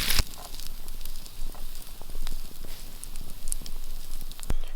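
Potatoes, bacon and sausage sizzle in a pan over an outdoor campfire, a steady crackling fry with snapping pops and faint wood-fire crackle throughout.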